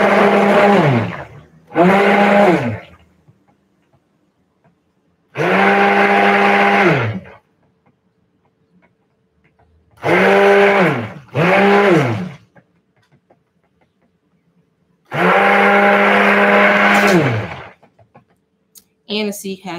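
A blender whirs through soap batter mixed with activated charcoal in about six separate loud, close bursts, each spinning up and winding down, with silent gaps between pulses.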